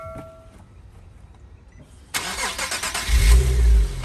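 An Infiniti Q60 salvage car sits quiet at first, then its engine abruptly catches and runs, growing louder and rougher as it revs near the end.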